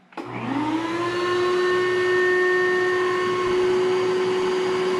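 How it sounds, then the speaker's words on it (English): A shop vac serving as dust collection for a Bauer oscillating spindle sander switches on with a thump and spins up into a loud, steady whine that holds for the rest of the time. "the first thing I'll do is turn on the dust collection system, which is just a shop vac"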